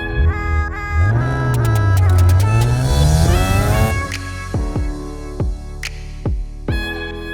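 A naturally aspirated BMW E36 M3 inline-six with individual throttle bodies revs hard nearby, rising and falling loudly, then settles into a series of sharp throttle blips with pauses between.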